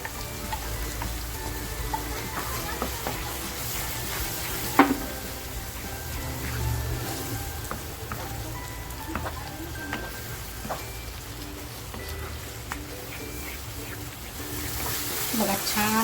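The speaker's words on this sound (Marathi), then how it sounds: "आता जो मसाला वाटून घेतला आहे ना तो मसाला टाकते बघा आपल्याला छान असा फ्राय करून घ्यायचा आहे" Ground masala paste fries in oil for a steamed surmai fish curry, a steady crackling sizzle with scattered pops and stirring, close, with a voice talking over it at times.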